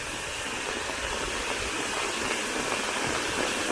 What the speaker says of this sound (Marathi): जवळपास एक तास जोरदार पाऊस पडला त्यानंतर धबधब्याचं रूप बघा पूर्ण बदलून गेलं जोरदार प्रवाह आहे